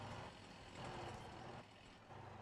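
In the driving game Motor Town, a modded vehicle built on the cart engine runs with a rough, steady drone that rises and dips in loudness, heard alone without talk.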